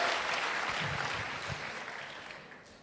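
A church congregation applauds in a dense, steady wash of clapping that slowly fades, with no voices rising above it.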